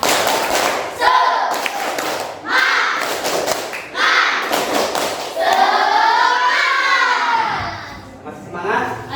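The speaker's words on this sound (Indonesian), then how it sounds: "Tepuk semangat." A classroom does a rhythmic spirit clap, sharp patterned hand claps in short bursts between a teacher's loud voice and children's voices answering.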